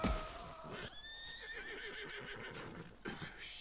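A horse in Red Dead Redemption 2 gives a clear, close whinny with a rising and falling neigh, followed by snorting and faint hoof movement, with no talk.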